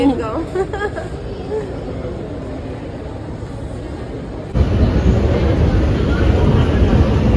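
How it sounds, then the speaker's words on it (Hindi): A train arrives at a railway station on a rainy day on the Rawalpindi to Karachi route, heard as a continuous rumble and hiss that swells louder partway through, with a crowd murmuring and talking nearby. "अभी ट्रेन तो आई है"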